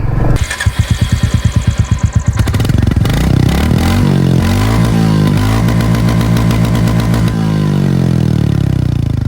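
A 2024 Royal Enfield Classic 350 BS6 single-cylinder engine fires up close by, settling into a loud, steady thumping idle with no voices.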